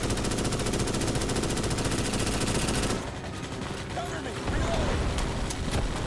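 Rapid automatic gunfire blasts away at an enemy in Starship Troopers: Extermination, a dense continuous burst for about three seconds, then scattered shots and rattling combat noise continue more sparsely.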